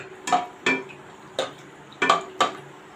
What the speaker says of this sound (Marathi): याच तेलामध्ये आपण हे काजू चांगले फ्राय करून घेऊया